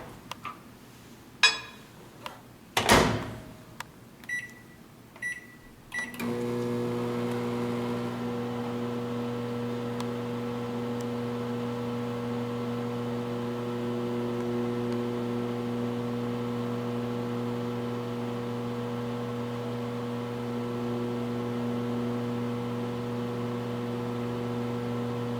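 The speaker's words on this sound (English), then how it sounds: "Microwave the beaker of 10 suppositories for 20 seconds." A few clicks and beeps of buttons, then a microwave oven starts and hums steadily for about twenty seconds, heating a beaker of suppositories.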